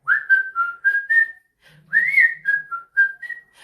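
A person whistles a bright tune alone, short melodic phrases with a brief pause in the middle, close and clear.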